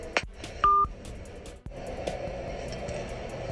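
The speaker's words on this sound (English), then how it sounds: "He just hung up the phone." A telephone gives a brief electronic beep tone as a call is hung up. It sounds clear and near against quiet room noise, with no voices.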